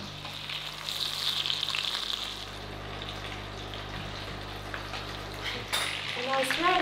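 Vietnamese spring rolls frying in very hot, smoking oil give a steady, close crackling sizzle that runs throughout, with a low mechanical hum underneath and a few clinks and stirring sounds near the end.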